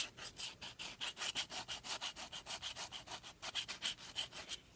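Sandpaper rubbed back and forth along the edges of a cured resin piece, a steady rhythmic scratching of about four strokes per second, close and fairly quiet, with no talking.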